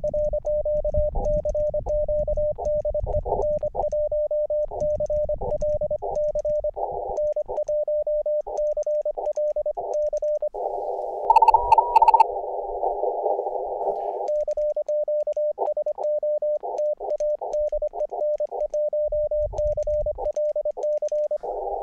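A portable amateur radio on a summit activation at Mesa Tinaja gives a steady keyed tone with short pulses and bursts of static, faint noise rising underneath at times.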